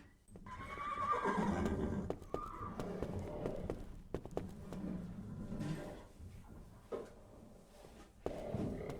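Nervous horses whinny and neigh in a stable in the Secret Files 3 video game, with loud repeated calls over shuffling hoof clops and knocks, close and busy throughout.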